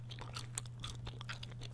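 Gum chewing close to the microphone in an ASMR gaming session, a quick run of soft wet crunches and smacks over a low steady hum, with no talking.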